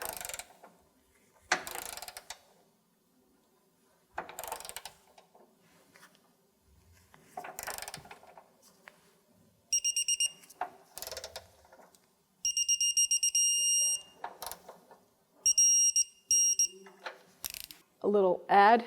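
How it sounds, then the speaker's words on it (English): A torque wrench tightens a lower control arm bolt on a 2007–2017 Jeep Compass, with repeated ratcheting bursts and clicks, metallic handling noises, and a few high electronic beeps in between. "So the next bolt I'm going to torque is the forward bolt."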